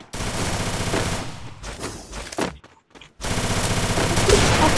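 Rapid gunfire from an MP40 submachine gun and Desert Eagle pistol in the Free Fire video game, loud dense bursts with a brief silent gap near the middle before firing resumes.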